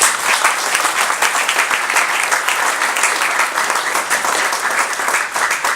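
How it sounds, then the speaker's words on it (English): A lecture audience welcomes the speaker with sustained, dense clapping. It stays loud and even throughout, with no voices over it. "let's welcome Andrei Lankov with a big round of applause"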